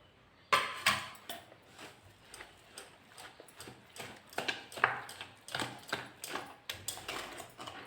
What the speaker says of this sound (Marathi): ही बघा मस्त क्रीमी होईपर्यंत असं फेटून घ्यायचं आपण